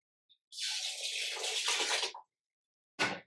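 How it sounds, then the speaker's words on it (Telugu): Filtered water pours steadily into a vessel to rinse soaked lentils for pesarattu, a close, clear splashing flow lasting under two seconds. A short second splash follows after a pause. "ఒకసారి ఫిల్టర్ వాటర్ పోస్తాం."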